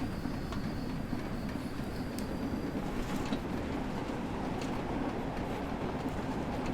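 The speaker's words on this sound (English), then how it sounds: "there's another train going past" A passing train in the Train Sim World 2 railway simulator gives a continuous low rumble with faint clickety-clack and metallic rail squeals, distant and steady, with no talk over it.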